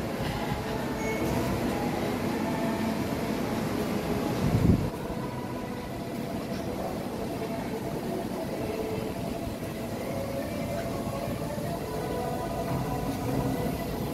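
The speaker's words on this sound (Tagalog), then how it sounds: "Ah, may train na sa taas." Sentosa train running at an elevated station, a steady rumbling rail drone with a brief louder clunk partway through, heard continuously at moderate distance without talking.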